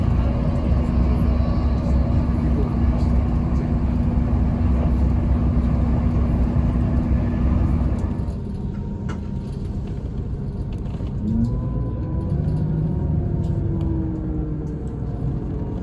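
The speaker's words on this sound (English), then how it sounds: "the track whine was very loud, indicating rail grinding has recently taken place here" Steady loud rumble and high whine of a Great Western Railway train running on recently ground rails near Bath, continuous throughout with a slight drop in level partway through.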